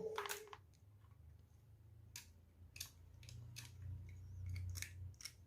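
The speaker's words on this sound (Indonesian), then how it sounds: "Oke, kita potong aja seperti ini" Scissors cutting through an electrical wire from a motorcycle stator, a few sharp, close snips and clicks spread across the quiet, with faint handling noise between them.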